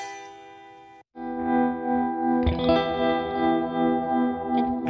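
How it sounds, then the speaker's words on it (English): A clean electric guitar played through the Tone King Imperial MKII Neural DSP amp plugin with its tremolo engaged rings out in sustained chords, the level gently pulsing, after a short pause and a fresh strum. "Then you have also a tremolo."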